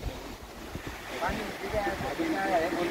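Sea waves washing onto a Seychelles shore, a steady broad rush mixed with gusty wind buffeting the microphone, with faint chirps in the background.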